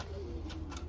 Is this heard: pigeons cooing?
yes